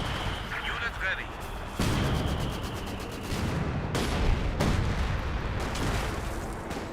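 An artillery barrage in Company of Heroes 2 pounds a single pounder gun with repeated heavy booms and rumbling blasts, loud and continuous, under a commentator talking.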